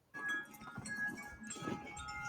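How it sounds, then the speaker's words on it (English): JW Sonar wind chime ringing in the wind, with several clear metallic tones sustaining and overlapping at moderate loudness over a steady breezy background. "Man, I freaking love this wind chime."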